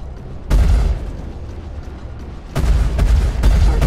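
A Tarantula ballistic gun fires in the Star Citizen space game, heavy booming bursts with deep rumbling weight, one sustained volley followed by a pause and then a rapid string of repeated thumping shots, loud and close.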